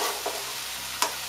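Ground beef being stirred in a pot for sloppy joes, giving soft scraping and a faint sizzle, with one sharper knock of the spoon against the pot near the end; short and quiet.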